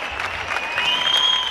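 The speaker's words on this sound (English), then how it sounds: "Applause all across Spain to thank the country's doctors." Applause rings out from balconies across Spain in thanks to the country's doctors, a brief, steady wash of distant clapping with a whistle cutting through.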